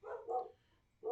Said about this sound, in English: You just made my dogs bark in the other room.